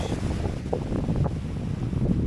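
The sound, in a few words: wind on the coast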